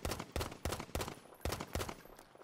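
Pistol fired until empty in the video game Battlefield V, a rapid series of about six sharp shots spaced roughly half a second apart, fairly faint and with no voices.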